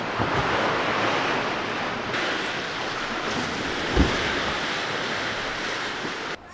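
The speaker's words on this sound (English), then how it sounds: "Oh, the boat made some waves." Boat wake waves wash in on a Michigan lake shoreline, a continuous broad surf rush with wind buffeting the microphone and a single brief thump midway, no talking.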